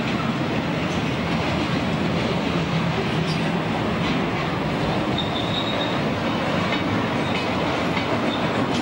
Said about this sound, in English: And this train is yet another.